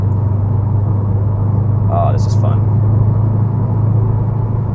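Steady low engine drone and road rumble inside a 2018 Subaru WRX STI while driving, running continuously beneath a short spoken remark.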